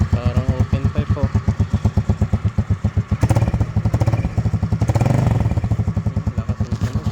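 Motorcycle running with an open exhaust pipe, loud close idle with rapid popping pulses that swell in two short revs before settling back.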